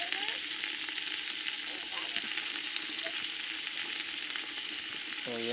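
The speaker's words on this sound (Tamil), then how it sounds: "எல்லாத்தையும் ஒன்றா போட்டு இப்போ வதக்குறாங்க." Green chillies, garlic and brinjal sauté together for a village-style fish curry, giving a continuous close sizzle with faint scraping stirs and a few brief background tones. Nobody speaks.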